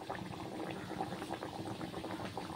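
Chana dal hing kachori frying in hot oil, a dense bubbling sizzle that stays close and steady throughout with no talk.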